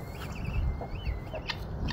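Barred Rock chickens cluck softly in a farmyard, with a few wavering calls and short clucks over a low rumbling background.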